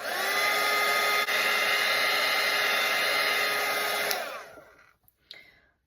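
A hair dryer blows steadily over a watercolour painting, a loud continuous whirring roar held for about four seconds before it switches off and winds down into quiet, with a faint click afterward.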